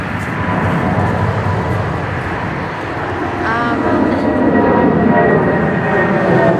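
An airplane passes overhead at an outdoor pro-life protest, a loud steady roar that swells over several seconds with faint voices of the crowd beneath.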